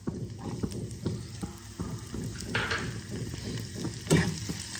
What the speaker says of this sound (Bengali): এবার দেখো আমি কুচিয়ে নেওয়া পেঁয়াজগুলোকে দিয়ে দিলাম।